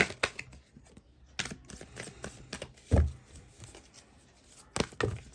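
A tarot card deck is handled close up, with scattered soft flicks, taps and slapping shuffles arriving in irregular bursts against a quiet background.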